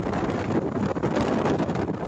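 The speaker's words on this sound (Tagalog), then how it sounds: "kinakalaban nila ang malakas na hampas ng hangin" Strong gusting storm wind in Palawan roars and buffets the microphone continuously, a heavy, rumbling rush with no pause.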